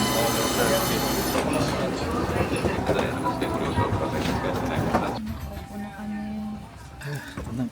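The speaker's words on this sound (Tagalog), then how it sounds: "Here's our train." A Keisei Skyliner train pulls into a station with a loud, steady rumble and wheel hiss that fades to a quieter hum, and voices can be heard over the noise.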